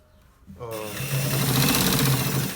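Sewing machine stitching a collar shirt, starting after a brief quiet moment and then running steadily and loudly to the end, a continuous whirring hum with fast mechanical rattle.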